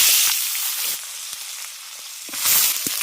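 Potato and eggplant pieces frying in hot oil with bay leaf and a pinch of asafoetida, a loud sizzle at the start that settles to a steady crackle, with sharp bursts and a second loud flare near the end.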